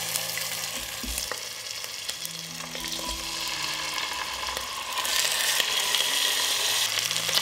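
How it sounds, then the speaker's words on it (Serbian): Chicken drumsticks and thighs fry in hot oil in a pot with a loud, continuous sizzle that swells and hisses more strongly toward the end, with occasional spatters and soft clinks. "Pripremila sam 2 pileća bataka i karabataka i sada ću ih propržiti na ulju"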